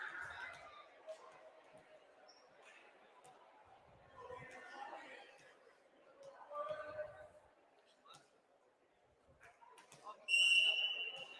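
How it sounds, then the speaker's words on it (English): Referee's whistle at a high school volleyball match between Meadville and Warren, a short sharp shrill blast near the end after crowd chatter and murmur in a gym, signaling the start of the second set. "Whistle blows, and we are underway here in set number 2."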